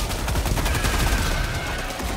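Sentry turret gunfire in the video game Helldivers, dense rapid automatic shots blending into a continuous loud rattle with a faint whine running beneath, sustained and unbroken, no speech.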